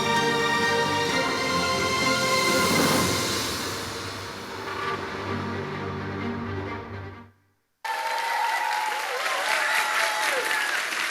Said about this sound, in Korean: 고등부 와서 소나기 박수가 있다는 걸 알았습니다